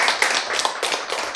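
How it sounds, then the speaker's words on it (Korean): Lecture-hall audience claps in a short, dense spell at a health talk. The clapping is close and fairly loud, with slight surges in rhythm and no speech over it. "이럴 때 한번 박수 한번 치셔야지"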